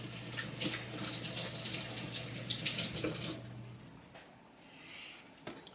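Running tap water splashes steadily over a cucumber being rinsed at a kitchen sink for a few seconds, then the flow stops, leaving faint drips and quiet room sound.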